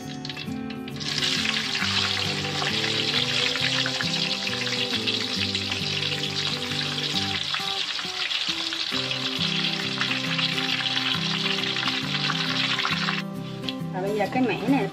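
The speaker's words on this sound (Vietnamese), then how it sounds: "Rồi mình sẽ để một miếng khác cho mình chiên tiếp nha." Sweet potato pieces deep-frying in hot oil give a steady, loud, dense sizzle that bubbles on continuously for the whole stretch, with a brief quieter dip midway and a person talking throughout.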